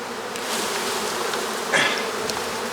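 Honeybees drone steadily on a hive frame after being misted, a close, continuous buzz with a slightly louder pass midway.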